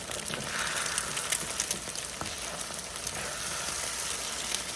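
Eggs with cheese fry in a hot skillet, giving a steady close sizzle with fine crackles and a few soft clicks throughout, no talking over it.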